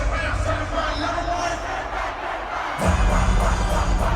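A huge concert crowd at a show in Toronto performing a song roars and chants in unison, a loud wash of massed voices that swells sharply near the end into fuller cheering.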